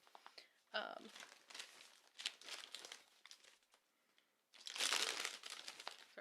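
Crinkly plastic packaging around a knitting item being handled up close, with irregular bursts of crackling and rustling and a louder crumple near the end, under a soft voice.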